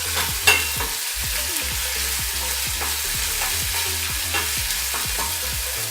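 Chopped onion, green chili and garlic paste fry in a pan for upma, under a steady sizzle with rhythmic spoon-stirring scrapes repeating about twice a second, close and fairly loud.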